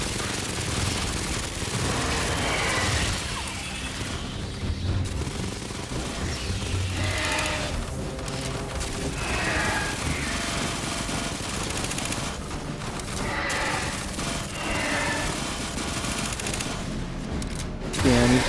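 Submachine gun and turret gunfire in the Aliens Fireteam video game, with continuous overlapping automatic fire and explosions that keep up a dense, loud barrage throughout.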